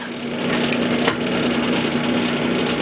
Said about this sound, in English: So I've got my lathe set with a stop.